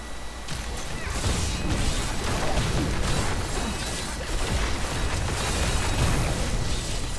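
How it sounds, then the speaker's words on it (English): A loud, sustained explosion rumbles and crackles for several seconds, with dense booming and smashing noise throughout. "Exploding."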